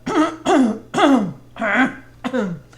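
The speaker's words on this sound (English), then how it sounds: "clear my throat." Five harsh, throaty bursts in quick succession, close and fairly loud, like someone clearing their throat over and over.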